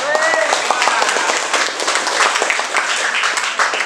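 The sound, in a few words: applause after group presentation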